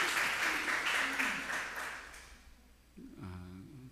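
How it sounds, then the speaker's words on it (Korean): A church congregation applauds during a Sunday morning service, clapping for the pastor's provincial award. The applause is fairly loud at first, then fades away over a couple of seconds before the pastor resumes talking. "박수를 크게 치셔도 누가 뭘 할 사람이 없습니다."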